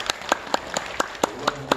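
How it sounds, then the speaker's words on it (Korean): A small audience at a hospital morning worship service claps to welcome a pastor, about eight loud, distinct, evenly spaced claps in a steady unison rhythm. "박수로 환영해 주시기 바랍니다."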